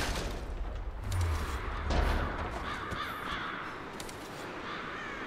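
Crows caw repeatedly around an outdoor scene in Rise of the Tomb Raider, the calls fairly close and overlapping amid a steady wind-like ambience, with a low thump near the start and no speech.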